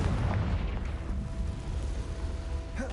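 Confringo fire spell exploding in Hogwarts Legacy, a broad rumbling blast with crackling low-end energy that fills the whole moment, followed by a fading fiery roar and a faint tonal hum.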